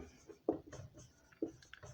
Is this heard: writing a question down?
yes